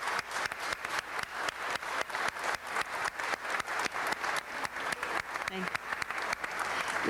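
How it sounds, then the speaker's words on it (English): At a city council meeting, an audience gives sustained applause for the consuls general, with dense, steady clapping and a few sharp individual claps standing out, plus a brief voice near the end. "Give them a great round of applause."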